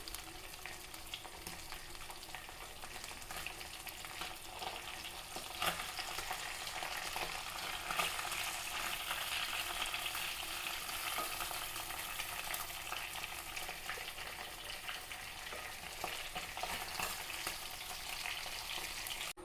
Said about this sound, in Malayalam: ഇപ്പോൾ നമ്മുടെ മീനൊക്കെ മുരിഞ്ഞിട്ടാണ്